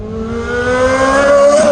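A Ferrari 360 with an IPE exhaust and open valves revs loudly, with a rising whine and growling exhaust, pitch climbing steadily as the car accelerates, close by.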